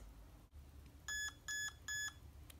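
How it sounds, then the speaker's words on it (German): A Traxxas RC car gives three short, evenly spaced electronic beeps, clear and close, over a quiet background hum. "bis das Auto dreimal piepst"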